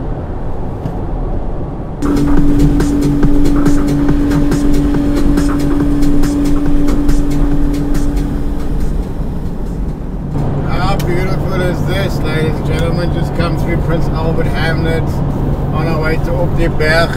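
An Isuzu X-Rider drives a rugged gravel road in the Cederberg, its cabin filled with a loud continuous road and engine rumble that shifts in texture midway, while people talk over it throughout.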